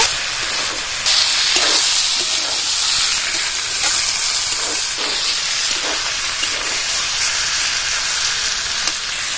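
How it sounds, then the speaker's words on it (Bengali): Raw green banana with brinjal and fried potato is sautéed in a pan, making a loud, continuous hissing sizzle throughout, with no talk. "ভালো করে সব কষিয়ে নেব"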